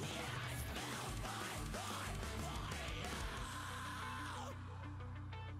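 A singer screams over loud distorted guitars and pounding drums in the bridge of a 2000s emo rock song, a sustained raw yell woven through dense, continuous band noise.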